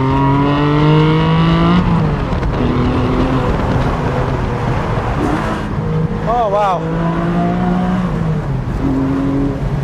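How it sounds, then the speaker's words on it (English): A Porsche 718 Spyder's exhaust roars loudly as it accelerates, the engine note climbing through gears, with a brief excited exclamation from someone inside. "That exhaust note is remarkable"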